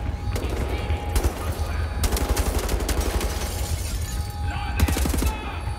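Rapid assault rifle fire in Wolfenstein: The New Order, loud and close, in dense bursts with debris shattering. Someone talks intermittently over the shooting.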